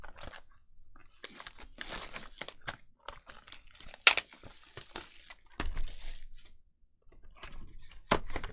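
A trading card box is opened up close, with soft, intermittent crinkling, tearing and rustling of packaging, quiet and without voices.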